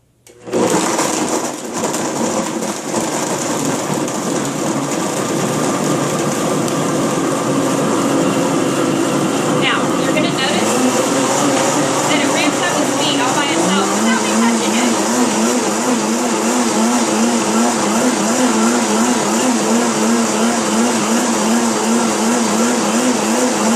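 A Blendtec 625 blender runs loud and steady for over twenty seconds, its motor whine holding even, then shifting pitch partway through as the load changes, with a warbling, pulsing drone in the later half.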